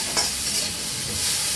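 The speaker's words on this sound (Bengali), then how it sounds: "এই কাজু কিশমিশগুলো ভেজে নেব" Cashews and raisins frying in oil in a pan for Basanti pulao, a steady close sizzle with light stirring scrapes, no voices.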